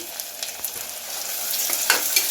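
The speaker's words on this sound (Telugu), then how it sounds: "ఇప్పుడైతే ఒకసారి కలుపుకోవాలి." Dried red chillies and curry leaves sizzle in hot oil in a frying pan, crackling steadily while a spoon stirs them with a few scraping clicks, close and clear.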